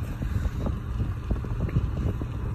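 A cheap electric fan running at high speed gives a steady, dense whooshing airflow with a low rumble, continuous and close to the microphone.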